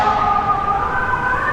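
A fire truck siren wails loudly and close on a Brooklyn street, its steady tones holding strong throughout with no talking.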